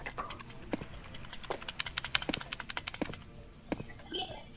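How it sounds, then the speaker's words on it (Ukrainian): Computer keys are mashed rapidly during a Roblox game, producing close, uneven clusters of sharp clicks that build into a dense flurry before thinning out. "Я просто на клавіатурі просто спамлю"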